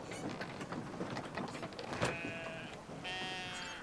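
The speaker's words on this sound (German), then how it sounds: "Ah, hier sind Schafe." Sheep bleat in the video game Brothers: A Tale of Two Sons, two wavering bleats near the end over soft ambient game sound, following a brief thud.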